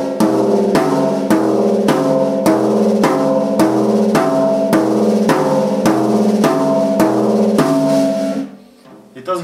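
Basic samba surdo rhythm played on high and low toms: a steady two-pulse pattern of evenly spaced resonant drum hits, loud and close, alternating high and low, ending with a brief pause.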